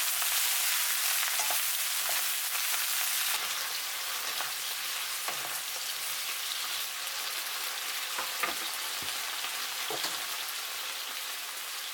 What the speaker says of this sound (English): add the bok choy. A pinch of salt, 1 tablespoon of oyster sauce. Stir for 2 minutes.